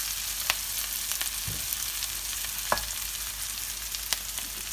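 Fresh curry leaves fry in hot oil in a pan for a South Indian chicken curry, a steady close sizzle with occasional sharp pops and a stir partway through.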